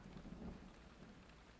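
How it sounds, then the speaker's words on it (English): Steady rain with a low rumble of thunder, a soft continuous wash of drops, faint and distant, alone with no talking. "It was raining that day, just like now."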